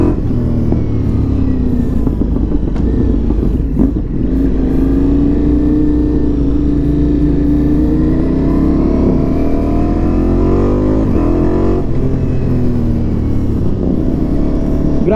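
Ducati Multistrada V4S motorcycle engine pulling hard while riding, a loud continuous roar with rising and falling pitch as it revs, over rushing wind.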